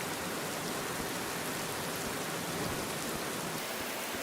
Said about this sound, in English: See if we can fast forward through this rain.